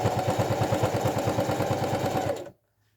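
Sewing machine stitching across a lumpy seam on an envelope cushion cover, a steady rapid mechanical chatter of needle strokes running loud and close, then stopping abruptly near the end.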